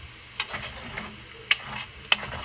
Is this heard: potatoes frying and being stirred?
yes